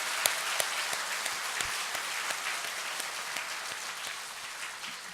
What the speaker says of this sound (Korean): 여러분 인사할 때 큰 박수로 환영합시다.